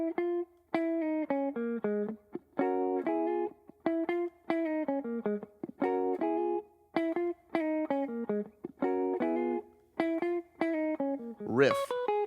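A slow pentatonic riff on guitar in a gospel praise-break style, played as clear picked and sustained notes in short phrases with brief gaps, close and fairly loud, ending with a quick rising slide.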